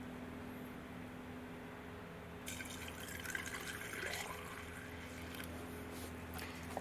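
Screen wash fluid pours into the reservoir of a 2004 Honda Accord 2.4, a faint, steady trickle of liquid that turns into a fuller splashing fill partway through.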